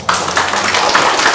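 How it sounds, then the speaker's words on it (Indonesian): A brief burst of audience applause at an event with Mgr. Petrus Canisius Mandagi, MSC, a dense, fairly loud patter of clapping hands lasting about a second. "Tepuk tangan"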